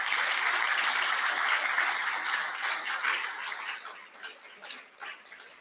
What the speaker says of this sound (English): So I want you guys to just clap yourself